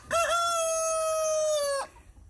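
A rooster crows once, loud and close, in one long sustained call of nearly two seconds that cuts off sharply, followed by quiet farmyard background.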